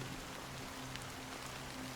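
Steady rain in the video game Honkai: Star Rail, a soft, even patter of drops that holds at a low level throughout, with no voices over it.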